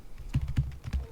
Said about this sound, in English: So I'm just going to type mean my data.